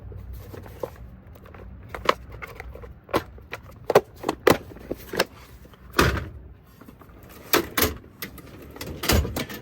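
A drawer of a mobile mechanic's toolbox holding hammers, chisels and drill bits slides open with metal rattles and clunks, a string of sharp knocks and scrapes, close and loud, with no talk.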